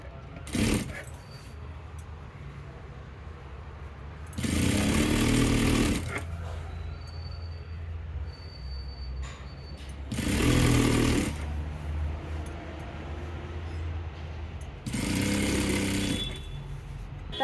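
Sewing machine stitching a cloth bag handle, three bursts of whirring machine stitching about a second or more each, separated by quieter stretches of room noise and faint handling.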